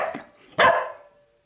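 A single loud, close dog bark, sharp and sudden, with a short softer vocal sound before it and a brief tail fading into quiet; it comes during a playful standoff with a household hoover.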